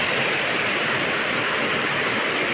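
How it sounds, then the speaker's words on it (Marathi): A waterfall in the Konkan countryside roars steadily and close by, a dense unbroken rush of falling water with no pauses and no voices. "मस्त वॉटरफॉल."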